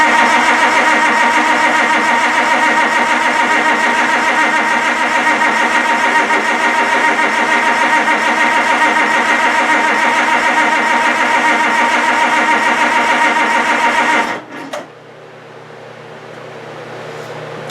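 A Farmall 560 diesel tractor engine with its head gasket under repair is cranked with the throttle wide open. The loud, steady, rapid churn runs for about fourteen seconds and then cuts off abruptly, leaving a quieter hum.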